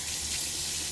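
A RazoRock Mamba safety razor with a Treet Platinum blade is rinsed under a running tap, giving a brief, steady close-up gush of splashing water.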